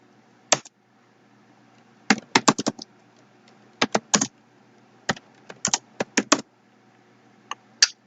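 Computer keyboard keys tapped in short, scattered bursts with pauses between them, close and clear against a quiet background while commands are typed.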